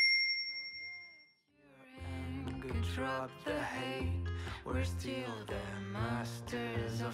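A bright notification-bell ding rings out alone with a short fading tail, and full music then starts up and carries on at steady volume.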